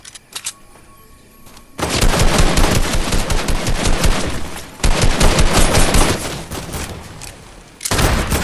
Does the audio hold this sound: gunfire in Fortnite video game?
yes